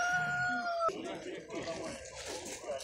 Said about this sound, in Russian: Петушки.